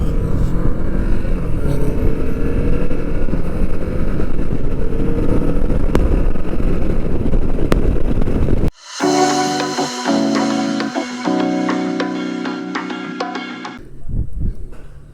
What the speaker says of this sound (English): today I'm riding my 2017 Kawasaki Vulcan S